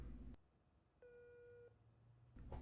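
A telephone tone from the Chernobyl TV drama plays as one short, quiet electronic beep, set between louder stretches of muffled soundtrack.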